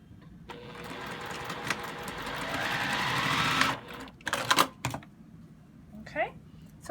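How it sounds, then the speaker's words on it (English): A sewing machine stitches a partial seam block, running in a steady whir for a few seconds, then stopping and restarting in short bursts, with faint handling noises between. "Okay, so that is sewing a partial seam block."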